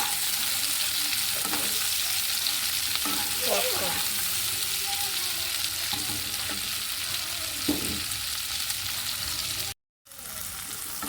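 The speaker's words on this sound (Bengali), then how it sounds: "আগে ক্যাপসিকামটা দিয়ে হালকা এরকম ভেজে নেবো" Steady sizzling of capsicum frying in a pan, with occasional stirring scrapes, then a brief cut to silence near the end.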